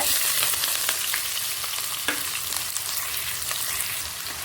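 Onion and curry leaves fry with mustard and fennel seeds in hot oil, a steady loud sizzle with occasional crackles and light scraping stirs throughout.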